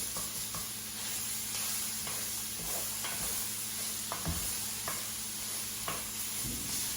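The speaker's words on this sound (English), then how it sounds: "And so we're going to mix this up now and let it finish browning." Sausage and tomato ragu sizzles steadily in a pan while a utensil scrapes and stirs through it in repeated strokes, close and continuous.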